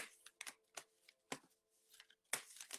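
A deck of oracle cards is given a quick shuffle, a handful of soft papery riffles and flicks in uneven bursts, close and quiet in an otherwise silent room.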